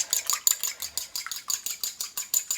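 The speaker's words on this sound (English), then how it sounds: "I'm going to take a fork, and I'm going to mix those eggs up" A fork whisks eggs in a bowl for banana muffins, producing rapid, rhythmic clinks against the bowl, about five strokes per second, close and steady with no talk.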